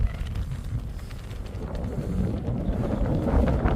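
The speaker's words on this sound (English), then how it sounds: "Very windy today." Gusty wind on the summit of Little Mell Fell battering the microphone with deep rumbling buffets that grow stronger toward the end, loud and close, no one speaking.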